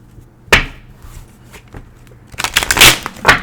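Tarot cards being shuffled by hand, a sharp riffle at first, then scattered soft flicks and a loud, dense run of shuffling near the end, close and alone.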